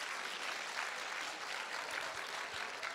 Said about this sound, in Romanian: Aplauze pentru el, e în sală